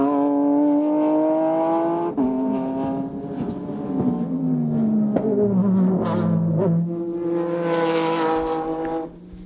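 Nissan and Lexus Super GT race cars from 2006 roar around the SUGO circuit, loud high engine notes rising and falling through gear changes and corners as the cars pass close by.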